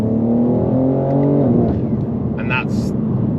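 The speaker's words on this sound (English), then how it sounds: "We'll actually demonstrate an overtake here. This is 3rd gear." BMW M3 engine pulling hard in 3rd gear during an overtake, a loud steady drone with rising harmonics that levels off near the end, heard up close from inside the car alongside someone talking.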